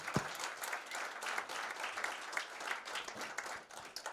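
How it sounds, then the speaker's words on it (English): A crowd at a panel event called The Shift applauds steadily and fairly loudly for about four seconds, a dense wash of many hands clapping with no one talking over it. "big applause for all the ones who made that possible"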